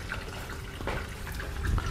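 A small waterfall spills from a pipe into a main pool beside a filter chamber, producing a steady, close, rushing splash that holds even and unbroken throughout.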